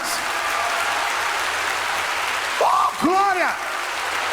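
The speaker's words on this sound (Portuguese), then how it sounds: "Aplauda o Senhor por isso nessa manhã" Congregation clapping in church during a sermon, a broad wash of applause under the preacher's voice, with a loud sung or shouted exclamation rising over it near the end.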